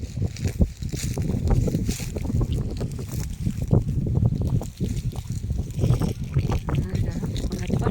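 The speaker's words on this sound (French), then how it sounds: "Et on a un petit peu de vent aujourd'hui." Wind buffets a phone microphone outdoors in nature in heavy, gusty low rumbles throughout, partly covering someone speaking close by.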